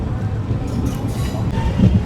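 Narasapur Express train 17248 rumbles along after leaving Renigunta Junction, heard from inside as a steady low clatter and roll with faint voices in the carriage.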